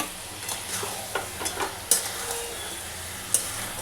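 Fish heads frying with cabbage and potato in a pan give a steady close sizzle, broken by a few sharp scraping knocks of a spoon stirring through the mix.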